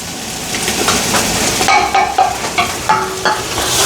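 Biryani masala sautéing in a pan for a shrimp biryani, with a steady sizzle and repeated scraping, clinking stirs of a spoon against the pan's metal at close range.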